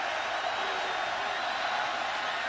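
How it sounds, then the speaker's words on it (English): A college football stadium crowd at a Nevada versus FSU game produces a dense, continuous roar, heard at a distance and fairly faint, with no distinct cheers standing out. "the crowd starting to become a factor"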